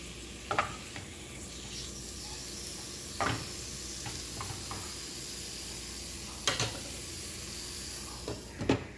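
Chicken for tacos cooking in a pan with a sprinkle of lime juice, a quiet steady sizzle with occasional louder crackles and pops spaced a few seconds apart.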